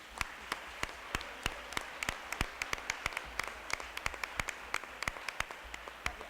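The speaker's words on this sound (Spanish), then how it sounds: "que os deis un aplauso vosotros" Students applaud at a round-table event about the Extremadura Parliament held at a secondary school, with sparse, distinct claps spaced out in an uneven rhythm from a modest group, heard alone without speech.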